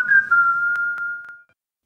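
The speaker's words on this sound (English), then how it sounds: "He pursed his lips and whistled a little 3-note melody." A man whistles a short three-note melody, a clear pure tone held steady with a few brief rising accents, close and alone, then fading to silence.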